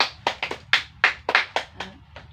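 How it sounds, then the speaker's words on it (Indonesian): Classroom applause comes as a short run of about ten separate hand claps, sparse and slightly uneven, fairly close and fading toward the end. "tepuk tangan untuk Leona."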